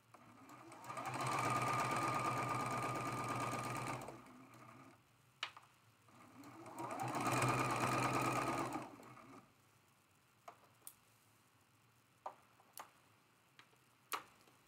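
A sewing machine stitches quilt block seams in two steady whirring runs of about three seconds each, separated by a pause, followed by a few sharp clicks of handling; near and clear with no talk.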